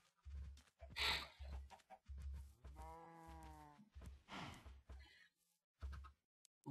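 Chickens in the Minecraft video game cluck, with a run of short, clipped clucks around one drawn-out, wavering call and no one talking.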